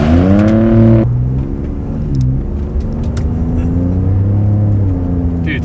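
A vehicle accelerates on stock throttle. After a brief loud rev, the engine settles into a steady drone that rises gradually in pitch, heard close from inside the cab, with no talk over it.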